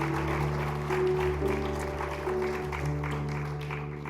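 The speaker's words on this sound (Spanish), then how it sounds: "Denle ese aplauso" Congregational applause rises during a Spanish-language church prayer service, steady clapping over a sustained musical backing that hums beneath it throughout.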